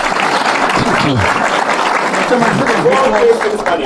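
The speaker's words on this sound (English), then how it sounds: "Please give me a round of applause." Studio applause on a TV quiz show, a continuous rattle of clapping from the audience that carries steadily throughout, with voices talking over it.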